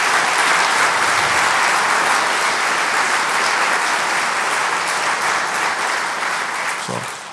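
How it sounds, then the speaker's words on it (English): Loud, sustained applause from an audience at a university building's ribbon cutting ceremony, a dense, even roar of clapping that continues for several seconds before beginning to fade. "I would like to give a round of applause to Paul for the hard work he has done for that."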